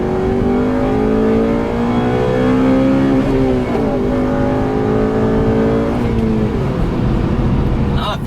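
A Mugen-equipped 8th-generation Honda Civic Si engine revs hard toward 5,000 RPM from inside the car, loud and continuous, its pitch climbing through rising sweeps with brief dips at shifts and faint voices underneath.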